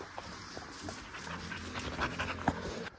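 A puppy pants close by in quick, soft breathy bursts, with faint whimpery yips scattered through, at low volume and with no talking.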